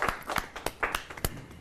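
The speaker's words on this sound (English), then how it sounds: "Have a clap for Mandar," Scattered hand claps from a small audience welcoming a young student lecturer at a talent event, a few sparse, uneven claps over about a second and a half, fairly quiet.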